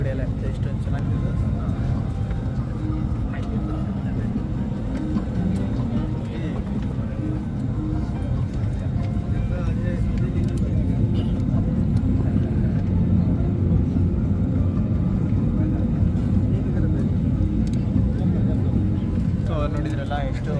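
Steady low engine roar inside an airliner cabin on a flight out of Imphal Airport, a continuous dense drone that stays even and close throughout with no breaks.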